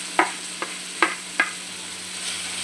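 Tomatoes fry in hot oil with browned onion for pav bhaji, a steady soft sizzle broken by four sharp scrapes of a spoon stirring the pan.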